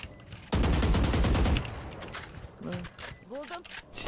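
Gunfire in Valorant: a loud close burst of rapid shots, then a few scattered quieter shots with a voice talking over the later part.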